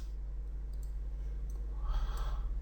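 A computer mouse clicking, light clicks against a steady low electrical hum, quiet and close, with a brief brighter rustle near the end.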